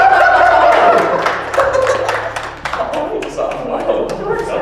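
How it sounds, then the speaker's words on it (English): A small group claps in a brief round of applause at a game-show style gathering, with dense overlapping claps fading gradually as voices talk over them. "A round of applause."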